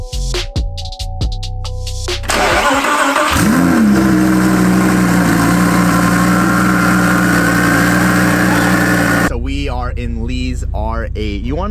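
A 1,500-horsepower underground racing car with an LSA supercharger revs hard and holds a loud, sustained roar for several seconds after a brief startup, with people talking before and after.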